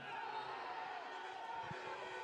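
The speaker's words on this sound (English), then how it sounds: "lots of cheering from the far side." Faint, distant crowd cheering from the far side at a men's first-team field hockey match, East Grinstead against Beeston, a soft steady wash of voices heard far off with no nearby talk.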